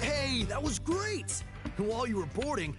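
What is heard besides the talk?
None of the usual background noises is heard.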